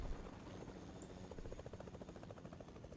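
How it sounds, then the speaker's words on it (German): A helicopter flies overhead in the video game Fortnite, its steady rhythmic rotor chopping a low, faint pulsing thrum throughout, with no talking. "Oh mein Gott, dieser Heli laut"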